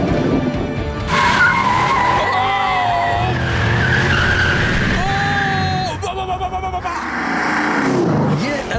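A modified pickup truck fitted with an LS1 engine does a wheel spin: its engine roars loud and close, tires squeal and skid in long screeching waves, and the revs rise and fall over several seconds.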